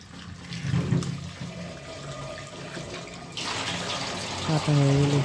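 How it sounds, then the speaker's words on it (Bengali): Cut radish pieces are washed in water in a home kitchen, with splashing and running water that gets louder partway through, alongside faint background sounds. "কাটা হয়ে গেলে একটু পাত্রে উঠে এগুলোকে ভালো করে ধুয়ে নেব।"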